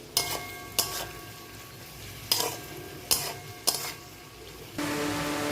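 Beaten egg goes into a pan for egg fried rice: several sharp spatula clinks and scrapes against the pan, then a steady sizzle swells up near the end.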